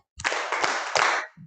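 A group claps together exactly three times in sharp, evenly spaced unison bursts to close a church training session, followed by a faint murmur of voices.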